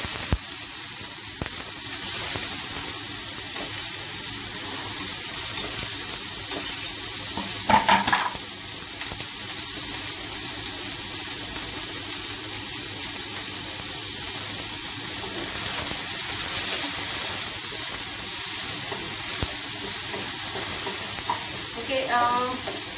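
Onions roasting in a hot pan give off a steady, bright sizzle that runs the whole time, with a few brief stirring scrapes and clinks breaking through.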